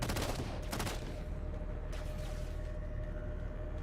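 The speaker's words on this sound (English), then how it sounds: "Taking fire, starboard side." Rapid bursts of gunfire in the Halo video game, a dense volley at the start followed by a further shot and a sustained noisy background, with no speech.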